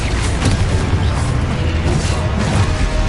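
Spell blasts and explosions from combat in the video game Hogwarts Legacy, a loud, dense run of booming bursts and crashes that overlap continuously for the whole stretch with no pauses and no talking.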